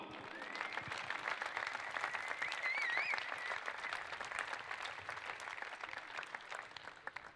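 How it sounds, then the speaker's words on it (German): A stadium crowd applauds a departing Hannover 96 player at an end-of-season farewell, steady dense clapping throughout with a few whistles, no voices on top. "Kräftigen Applaus bitte nochmal für Julian Korb."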